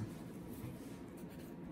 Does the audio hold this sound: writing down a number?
yes